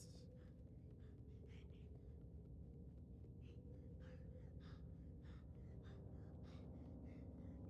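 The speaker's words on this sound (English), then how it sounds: "Oh, I can hear the kid breathing." Heavy, repeated breathing of a child character in a video game, a series of soft breathy puffs under a steady low rumble of game ambience.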